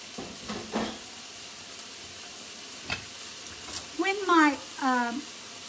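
Chicken fajita meat, peppers and onions sizzle steadily in a hot pan, a soft continuous hiss with a few stirring knocks, while someone talks over it near the end.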